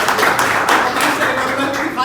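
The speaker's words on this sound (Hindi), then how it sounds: "एक बार जोरदार ताली बजाइए इनके लिए" An audience at a soybean farming training session clapping in a steady, continuous patter of many hands under a speaking voice.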